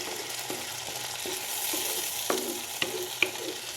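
Tomato puree fries in a pan with a steady close sizzle while a spoon stirs it, knocking and scraping at regular intervals. A few sharper clicks come near the end.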